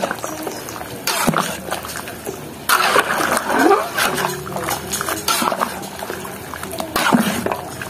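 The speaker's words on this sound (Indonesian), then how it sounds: "kita aduk-aduk dulu sampai tercampur sempurna dengan airnya" Satay seasoning mixture being stirred with water in a pot, a continuous sloshing, splashing churn with scraping accents, close and fairly loud.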